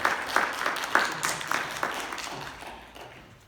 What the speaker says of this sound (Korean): 우리 먼저 하나님 앞에 영광의 박수를 올려드리겠습니다